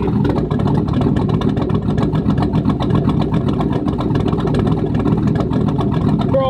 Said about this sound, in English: That sounds like a proper idle in my opinion.